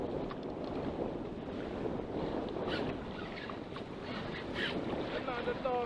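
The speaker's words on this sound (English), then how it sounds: "And windy too." Wind blows across a fishing boat at sea on a rough day of three-to-four-foot waves after a storm, a steady rushing roar buffeting the microphone with water sloshing underneath and some rustling near the end.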